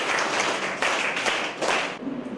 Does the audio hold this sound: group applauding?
yes